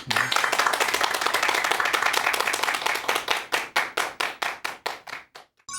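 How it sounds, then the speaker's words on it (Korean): A lecture audience claps for the speaker, starting as dense applause and thinning into a few distinct, rhythmic claps that taper off toward the end. "오늘 강연 그러면 바로 박수로 청해 듣도록 하겠습니다. 여러분 큰 박수 부탁드립니다."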